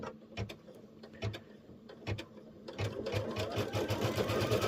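A computerized embroidery machine stitches a zipper purse held in the hoop, its rapid, regular mechanical needle chatter running steadily and growing denser partway through, close by and without talk.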